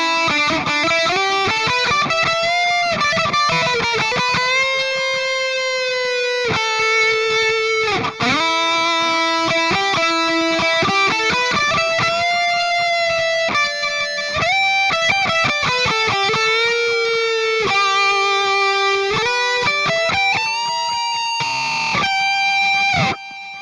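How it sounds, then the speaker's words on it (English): Electric guitar played through a Mooer Prime P1 pocket multi-effects pedal with a subtle delay: melodic sustained lead lines with a soft echo trailing each note, played continuously and clearly with no talk. "Going for a bit of a subtle delay, but you can have digital, analog, echo, tape, and reverse."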